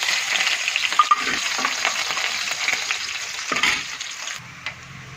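Mustard seeds, cumin, garlic cloves, green chilies and curry leaves sizzle and crackle steadily in hot oil while stirred for a potato and capsicum curry. The frying is loud and continuous, then drops to a quieter hiss near the end.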